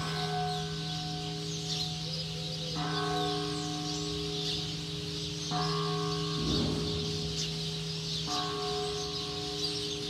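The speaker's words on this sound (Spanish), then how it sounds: "qué chulada las campanadas de nuestro pueblo" Town church bells ring in slow, evenly spaced strikes about every three seconds, each ringing tone hanging until the next. A faint bird call and light outdoor background sit beneath them.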